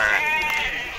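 Sheep bleat loudly and close at a weekly livestock market in Morocco, with one wavering bleat filling the brief moment while people talk nearby.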